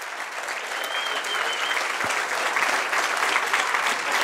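An audience at the German Film Museum in Frankfurt breaks into sustained applause for Michael Haneke, many hands clapping steadily and growing slightly fuller, with a faint voice briefly beneath.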